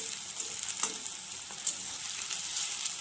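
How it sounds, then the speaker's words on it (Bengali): Chopped onion and capsicum fry in a pan with whole cumin, a continuous soft crackling sizzle with occasional stirring scrapes, fairly quiet and close, with no voices. "পেঁয়াজ কুচি আর ক্যাপসিকাম, এ দুটো দিয়ে ভালো করে ভেজে নিতে হবে।"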